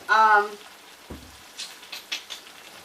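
Beef pieces for stew frying in a pan, a faint broadband sizzle with a few soft pops and stirring scrapes, briefly preceded by a short tonal whine at the start.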